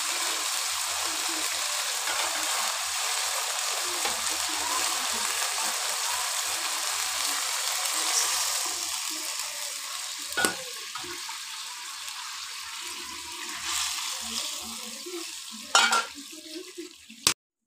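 Lentils tipped into a pan of fried spices give a steady frying sizzle throughout, broken by a few sharp clatters and stirring knocks near the end.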